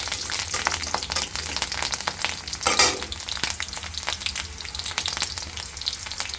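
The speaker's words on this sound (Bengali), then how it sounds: "আমি কড়াইয়ের সরিষার তেল দিয়ে তার ভেতরে আমি রসুন কুচি দিয়ে দিলাম" Chopped garlic fries in mustard oil in a wok while an olive pickle is being made, giving a steady close sizzle with one brief louder spitting burst partway through; no one speaks.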